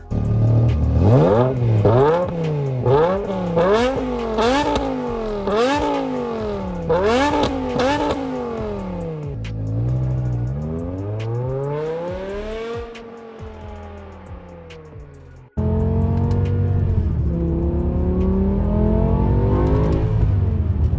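A BMW M6 V10 engine with a modified muffler revs repeatedly through a loud, raspy exhaust, rising and falling in pitch, then settles into a deep, throaty idle.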